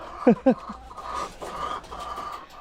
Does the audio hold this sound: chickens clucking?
yes